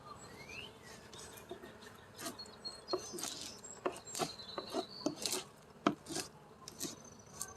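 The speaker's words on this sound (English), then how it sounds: "I want to get this burr cleaned off the lid because this causes issues." A hive tool scrapes burr comb off a wooden beehive lid during a weekly inspection on a farm, giving intermittent rough scratches and clicks over a steady hum of bees nearby.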